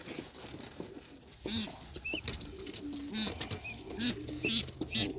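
Young racing pigeons in a loft give soft, scattered coos and quiet pattering movement, with occasional light flutters close by in an otherwise calm space.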